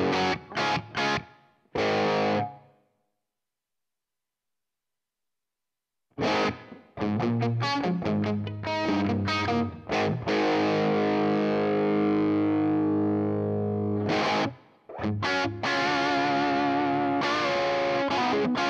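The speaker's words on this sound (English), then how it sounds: "The plate is my favorite reverb." Electric guitar played through a Line 6 Helix into a Seymour Duncan Powerstage with stereo plate reverb: a few short distorted stabs, a pause, then sustained chords and riffs with lush reverb tails, loud and close.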